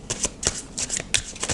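A deck of Osho Zen tarot cards is shuffled close by in quick riffling bursts, several soft papery flicks over a moment with no talk.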